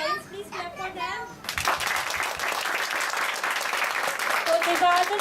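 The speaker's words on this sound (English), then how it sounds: "Please clap for them." After a moment of children's voices, an audience of parents and children at a school learner-profile event breaks into sustained, fairly close clapping that carries on to the end, with some chatter mixed in.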